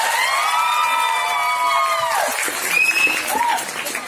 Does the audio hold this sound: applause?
yes